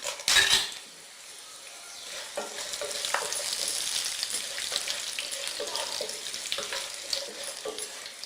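Dried red chillies and tempering spices spit and sizzle in hot oil for Andhra upma. A sharp clatter opens a steady, moderate frying hiss with occasional pops.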